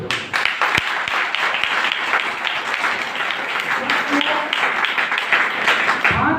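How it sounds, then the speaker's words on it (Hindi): Church congregation during a Sunday service, a sustained wash of clapping from many hands filling the whole stretch, with voices mixed in underneath. "परमेश्वर की महिमा के लिए एक बार ताली बजाओ।"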